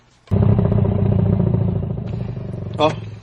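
A motorcycle engine runs steadily and loud from start to finish, with a rattling clatter and a brief rev near the end, while people talk over it.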